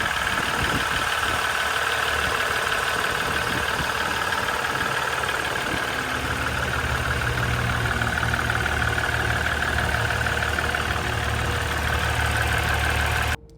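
A Ram 1500 EcoDiesel truck engine idles nearby with a constant low rumble and faint mechanical ticking, running evenly before cutting off abruptly.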